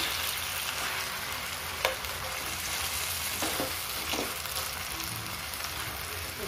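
Tomatoes fry in a pan of onions for egg curry, giving a steady, dense sizzle from start to finish with a few soft stirring knocks and no voices.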